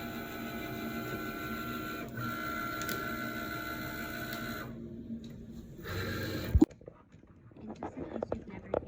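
A Cricut cutting machine draws with a marker pen. Its carriage motor whirs in steady, shifting tones, then stops with a sharp click before a few faint taps in the quiet that follows.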